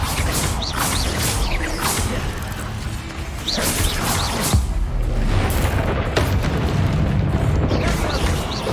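The Bombarda explosion spell from Hogwarts Legacy goes off in several crashing bursts and whooshes amid a dense, loud stretch of combat noise.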